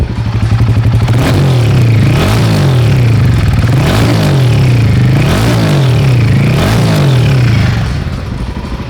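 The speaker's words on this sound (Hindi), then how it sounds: "So yeah, this is how this motorcycle sounds." A Royal Enfield Himalayan 450 motorcycle engine, heard up close and loud, idles with a throbbing beat and is revved several times, each blip rising and falling before it settles back toward idle.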